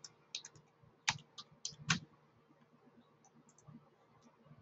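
Someone types a short folder name on a computer keyboard. A few quiet, scattered keystrokes and clicks come in small bursts against near silence.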